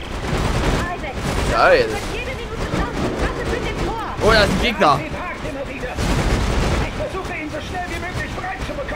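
Rapid automatic gunfire from machine gun turrets rattles continuously in Dead Space 3, dense and loud, while a person talks excitedly over it.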